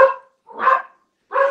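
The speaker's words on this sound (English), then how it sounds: "Well, they're barking." Dogs bark three times in short, separate bursts with silent gaps between them, fairly close and clear, with no talking.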